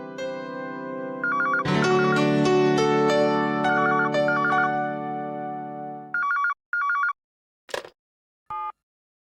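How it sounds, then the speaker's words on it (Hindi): A phone ringtone plays loudly as a melodic electronic tune for several seconds, then breaks into short separate tones with gaps between them. "बजने दो, किसी का जरूरी फोन होगा।"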